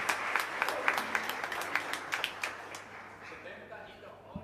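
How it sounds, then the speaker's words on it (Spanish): Applause from the congregation at a live Catholic mass in a chapel in Fernando de la Mora, a run of scattered claps that fades out while a voice speaks over it. "Para Aline también un fuerte aplauso"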